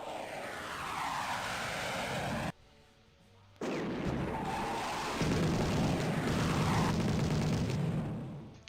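A dense, loud game airstrike in People's General, with roaring aircraft sweeps and rumbling explosions, broken by a short quieter gap before the blasts resume and swell, without speech.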